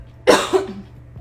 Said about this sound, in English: I hate coughing.